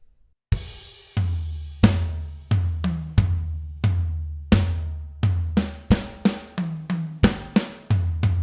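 A drum kit plays a rock groove from a song, with loud crashing cymbals and punchy kick and snare hits in a driving, uneven pattern, close and alone without talk.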